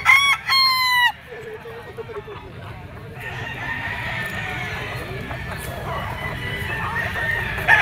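Roosters, including yellow-legged birds, crow loudly and close at an open-air poultry and pet market, one long crow opening, then clucking and steady crowd chatter and voices around the stalls.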